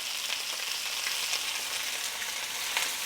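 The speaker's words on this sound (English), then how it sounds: "I'm gonna let them sear from the bottom really good." Chicken pieces sear in a hot pan for a steady, dense sizzle that holds at an even loudness throughout, close and without speech.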